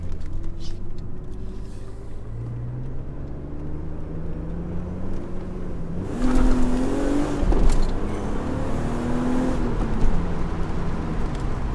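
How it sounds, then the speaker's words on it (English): A BMW Z3 engine idles with a low burble, then revs up and down in a few rising and falling sweeps, getting louder past the midpoint, fairly close and without talk. "all I'm really hearing is a little bit of power from the engine"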